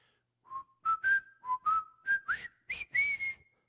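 A man whistles the melody of a song's intro, a run of clear, close, gliding notes in short phrases with brief gaps between them, alone in a quiet room.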